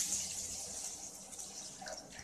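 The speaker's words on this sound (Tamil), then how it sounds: "துவரம்பருப்பை இதுமாரி வானலில் போட்டு தேவையான அளவுக்கு தண்ணி ஊற்றிக்கோங்க." Water pours steadily into a cooking pan holding toor dal, a continuous close splashing and gurgling stream lasting a couple of seconds.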